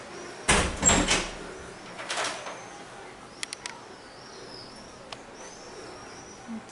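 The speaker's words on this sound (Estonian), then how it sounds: "Tuo uksi ei lahti vist." A door on a seaside balcony in Italy is tried but does not open, giving a couple of rattling knocks and clunks up close, then quiet outdoor air with faint birds and insects.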